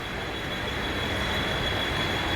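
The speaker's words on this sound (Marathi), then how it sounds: "याला सर्व ट्रान्स हार्बर लाईन म्हणतात" Suburban commuter train on Mumbai's Trans Harbour line running close by, with a loud, steady roar of wheels on rails and a faint high metallic whine, continuous with no talk.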